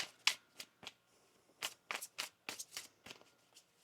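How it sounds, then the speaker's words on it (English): A deck of tarot cards shuffled by hand during a card reading, giving a string of crisp riffling bursts and soft flutters, close and fairly quiet with short pauses between them and no talking. "One more shuffle here."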